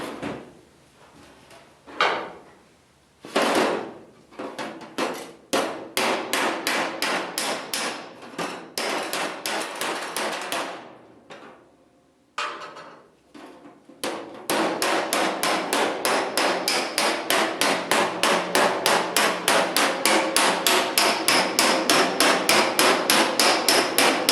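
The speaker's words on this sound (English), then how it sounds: "So let me do some hammering here." Hammering on the sheet-metal body of a Ford Model A Sweetheart Roadster near the gas cap area, with sharp metallic blows in irregular bursts at first, then a fast, steady, loud run of strikes.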